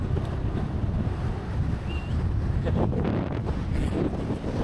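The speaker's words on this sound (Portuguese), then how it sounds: "Nem sei se dá pra escutar alguma coisa, porque esse vento aí." Strong wind buffets the microphone outdoors in the mountains, a steady loud rumble of low roaring gusts that fills the whole stretch with no talking.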